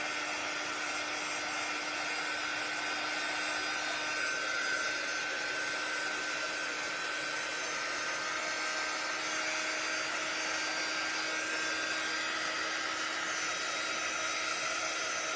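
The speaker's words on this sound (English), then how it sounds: "So I'm just trying to dry up the ink just a little bit" A heat tool blows continuously while drying ink on homemade magnetic letters, a steady, loud whooshing hum with a constant whine that holds unchanged throughout, with no voices.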